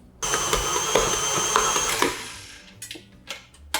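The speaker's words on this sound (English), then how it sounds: "I'll just add in the rest of the butter and let this mix for 5 to 7 minutes" A stand mixer kneads brioche dough with butter, giving a steady motor whir with rhythmic knocks for about two seconds before it stops, followed by a few scattered clatters.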